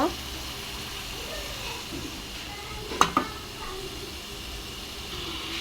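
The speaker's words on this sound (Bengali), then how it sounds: "তারপরে আমি দিব হচ্ছে মাছ মাছটা দিয়ে মাছটা দিয়ে আমি কষিয়ে নিব" Pieces of stinging catfish fry in a pan during cooking, with a steady soft sizzle and hiss. A sharp clink or two of a utensil against the pan sounds midway.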